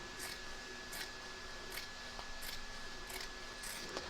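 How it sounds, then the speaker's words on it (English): Scissors snip through excess stabiliser around a machine-embroidered table runner, a series of crisp cuts roughly every half second, close and clear over a quiet background. "I'm just going to trim the excess stabiliser"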